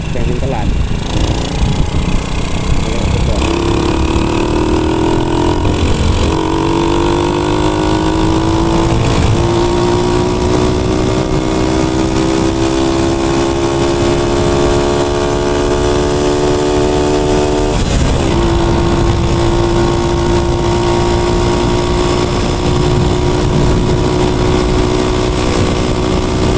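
Honda Supra X100 motorcycle engine revving up steadily with rising, wavering pitch and a hesitant, bogging response under throttle, loud and close throughout against constant background noise.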